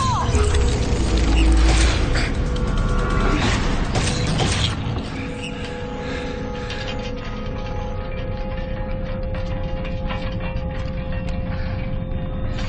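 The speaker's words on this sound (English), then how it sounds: "Nicola, the door!" A heavy mechanical door on a sci-fi set grinds open with loud creaking gears and clanking, then settles into a lower, steady mechanical rumble and hum that continues to the end.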